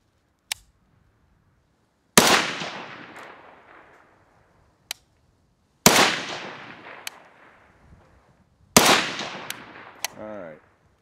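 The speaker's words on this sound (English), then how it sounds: "Let's do another three-round group here and see how we're doing." An AK rifle fires a three-round group outdoors, three loud, sharp shots spaced a few seconds apart, each with a long rolling echo that fades out, plus faint clicks between them.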